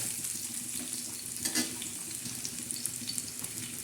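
Chopped onion frying in oil in a pan for egg bhurji, a faint, steady sizzle with light stirring scrapes and a small clatter midway.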